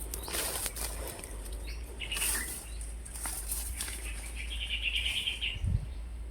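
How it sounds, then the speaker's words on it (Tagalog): Birds flap their wings in quick rustling bursts, with a few chirps and a brief high trill nearby over a low background hum. "Ibon. Dalawang ibon."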